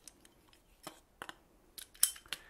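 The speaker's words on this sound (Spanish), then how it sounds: "Estoy cortando tubo reforzado, tubo de presión, de pared gruesa" A manual pipe cutter slices through thick-walled reinforced PVC pressure pipe, giving a few sharp, close snipping clicks spaced irregularly over a quiet background.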